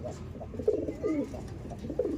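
Pet pigeons or doves coo softly at close range, a few low rounded calls in short succession against a quiet background.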